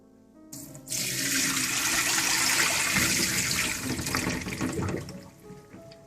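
Water pours and gushes steadily for several seconds as it is drained from soaking potatoes, like a pot being drained into a sink, then tapers off.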